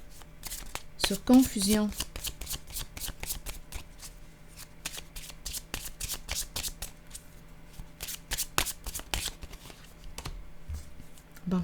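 A deck of tarot cards is shuffled repeatedly in rapid riffling bursts, close and crisp, while a voice says a few words.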